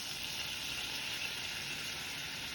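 Butter and maida flour sizzle in a pan for white sauce pasta, a steady, even hiss that continues unbroken throughout with no voices.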